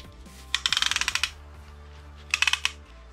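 A ratchet tightens engine parts during reassembly of a V6 muscle-car engine at the piston install: a quick run of about ten close, crisp clicks, a pause, then a shorter burst of four or five, with no talk.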